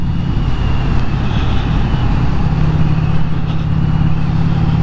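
A Vincent Rapide classic British motorcycle engine idles steadily nearby with a misfire, a loud continuous low rumble with an uneven beat and no speech.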